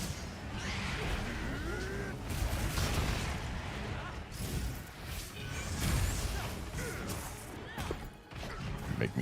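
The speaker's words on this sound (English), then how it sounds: "Arkvel's big dragon swoop" Arkvel's dragon swoop attack in Monster Hunter Wilds, a dense roaring rush of crashes, whooshes and explosive impacts building and surging over nine seconds, with a voice talking underneath at times.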